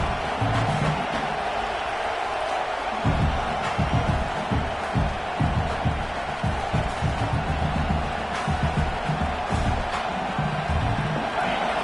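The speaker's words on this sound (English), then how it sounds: "This crowd bringing the energy and noise early." A large stadium crowd in an American football video game roars and murmurs continuously, with swells of cheering rising and falling over a steady wash of noise.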